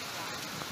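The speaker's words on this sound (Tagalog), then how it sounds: "Inabutan na kami ng ulan." Rain falls in a dense, continuous hiss, a short burst of steady patter on surfaces, faint and even.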